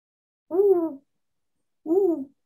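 A person imitates an owl's hoot with the voice, two separate hoots spaced about a second apart, close and clear in an otherwise quiet room.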